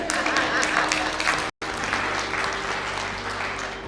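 An audience claps steadily and loudly at a motivational talk, with a brief cut partway through before the applause continues.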